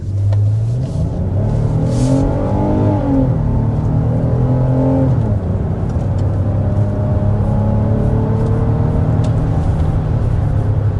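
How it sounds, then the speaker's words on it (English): A V6 Hyundai Palisade SUV accelerates hard to 60 mph, its engine note climbing through the gears with a shift partway through, loud and steady with road rumble, no talk. "there's an acceleration to 60 miles per hour with the Palisade"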